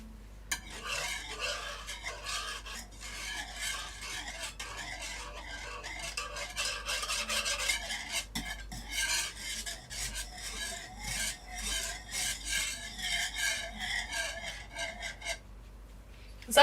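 A whisk scrapes and rasps against a non-stick pan while creamy salmon and spinach pasta is stirred, a continuous gritty rubbing with uneven rhythmic strokes at close range and no talking.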